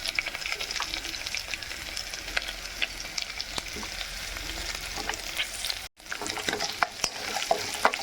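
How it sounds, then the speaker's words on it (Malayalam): Green chillies and curry leaves sizzle and crackle in hot oil in a pan while preparing a roasted-coconut mushroom curry, a steady close frying hiss with brief stirring sounds and a short break midway. "ഇനി നമുക്ക് പച്ചമുളകും കറിവേപ്പിലയും ഇട്ട് കൊടുക്കാം."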